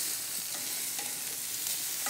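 Steak sizzles loudly in a hot cast iron pan as it browns and gets flipped, a steady close crackle and hiss with a few brief clinks over the sear.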